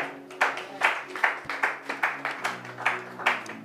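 A church congregation claps in a steady rhythmic beat, each clap sharp and evenly spaced at a moderate level, with faint singing voices sustained underneath.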